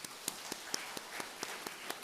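Steady, evenly spaced hand claps of a church congregation at a Friday late-night prayer meeting, applauding the worship team and choir; faint and distant, about four claps per second.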